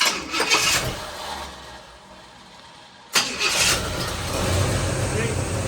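A 1968 Pontiac GTO with a 400 V8 and a three-speed cranks over with the starter, goes briefly quiet, then fires and settles into a loud, steady running rumble close by.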